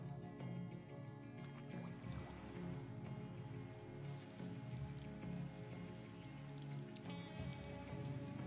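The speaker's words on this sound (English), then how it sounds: "For creatures as small as insects, the huge raindrops can be lethal." Heavy raindrops patter steadily onto leaves in a rainforest, a dense, soft, continuous spatter with scattered sharper drips, quiet and with no voices.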